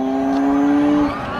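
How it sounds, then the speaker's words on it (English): A child's toy BMW electric ride-on motorcycle plays its built-in engine sound effect, a brief, steady electronic revving tone that cuts off after about a second. "Look, that's the motorcycle sound."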